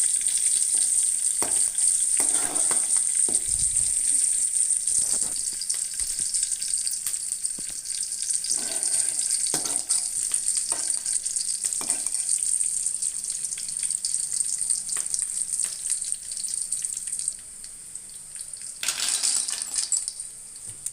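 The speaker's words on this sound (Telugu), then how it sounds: "కొంచెం టమాటాలు కొంచెం వేసుకుని పప్పు వేసి కొంచెం బాగా ఫ్రై చేయాలి" Green chillies, tomatoes and dal fry in a pan with a soft, steady sizzle, broken by occasional stirring knocks and metallic taps against the pan.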